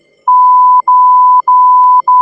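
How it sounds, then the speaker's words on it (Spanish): A steady high electronic censor beep repeats in short bursts, some single and some doubled, sharp and loud with brief silent gaps between them. "El pitido ese no para de sonar."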